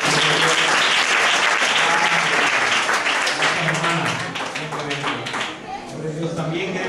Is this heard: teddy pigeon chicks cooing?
no